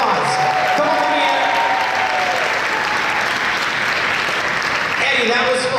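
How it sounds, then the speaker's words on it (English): An audience at an exhibition gives a quiz winner a big round of applause, with loud, sustained clapping alongside a few voices and a brief tonal sound near the start. "let's give her a big round of applause"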